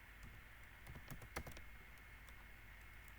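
Computer keyboard keys tapped while typing in a code editor, a quick irregular run of light clicks clustered in the first half, faint and close against a steady quiet room hiss.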